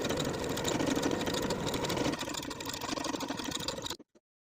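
A sewing machine runs continuously, finishing the raw edges of front and back pieces of a ruffle-sleeve summer top, its busy whirring changing pace midway before cutting off abruptly into silence.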